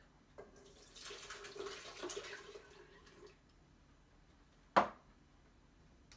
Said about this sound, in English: Next, I'm going to add two cups of buttermilk.